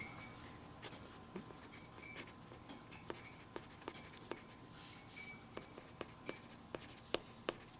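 A pencil shades leaves onto paper, with quiet, close scratchy strokes and small rhythmic taps repeating through the stretch, soft and alone without talk.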